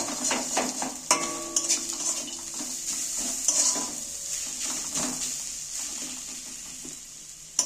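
Peanuts being stirred in a cooking pan, with repeated metallic scrapes and clinks of a spoon against the pan and a soft sizzle underneath, close and steady throughout.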